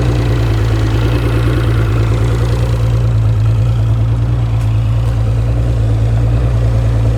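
A 200 HP outboard boat motor idles in gear with a steady low rumble and even, unchanging throb from start to finish, close and alone with no talk.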